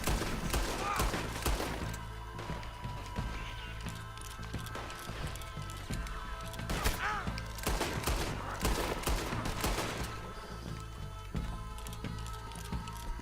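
Gunfire in the video game Red Dead Redemption 2, a dense fusillade of shots and thuds running throughout, loud and continuous with scattered bursts over busy game ambience.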